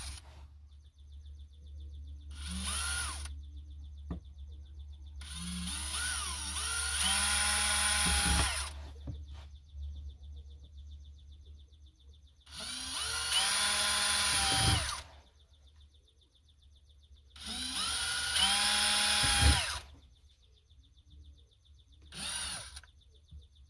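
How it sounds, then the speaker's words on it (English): A power drill whirs in several bursts of a few seconds each into plastic, with short pauses between, over a steady low background hum. "I'll just drill on the dot"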